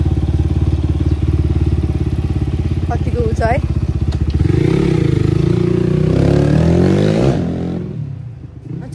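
A dirt bike engine idles and chugs after a long lay-up and servicing, then revs up for a stretch before fading out; someone speaks briefly over it.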